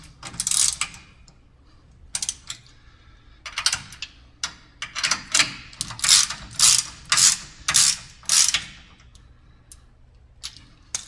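A ratchet tightening bolts on a StairMaster SM916 StepMill, sharp clicking bursts in repeated strokes, sparse at first and then rhythmic and loud up close.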